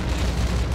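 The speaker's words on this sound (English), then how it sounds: "and he explodes" A boss exploding in the pixel-art video game Minit: a continuous loud, rumbling explosion filling the short stretch, with no speech over it.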